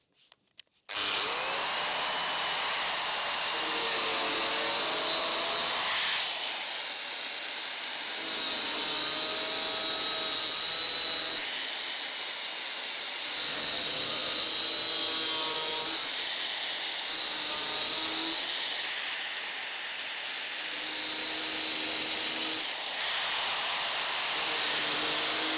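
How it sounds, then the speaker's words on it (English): Power tool grinding and cutting into a rusty car door panel, a high whining buzz in several long bursts separated by brief pauses, close and fairly loud throughout. "I'll cut a piece out of the door in here somewhere"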